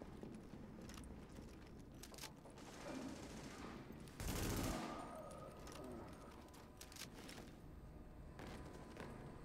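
Gunfire in the video game Tom Clancy's The Division, a low, steady spread of distant shooting with one louder blast near the middle, quiet overall.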